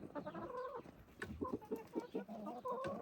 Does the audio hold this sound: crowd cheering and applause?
no